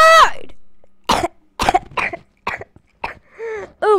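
Repeated harsh coughing fits and throat clearing in short bursts, close and fairly loud, separated by brief silences, with no talk.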